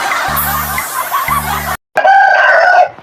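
A rooster crows loudly and close in a broken, comic way, with raspy clucking bursts, a brief cutoff, then a strained drawn-out crow, all without talk.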